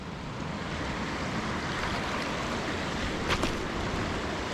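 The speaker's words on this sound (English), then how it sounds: "to see the force of the water coming out of a pipe like this" Water rushing forcefully out of a pipe beside a river in the Scottish wilderness, a dense, steady roar with no breaks and a couple of brief splashy spikes.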